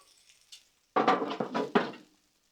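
A metal dome set down over ravioli and meatballs cooking on a Blackstone griddle, a brief cluster of clattering metallic knocks and scrapes close by, with faint sizzling before it.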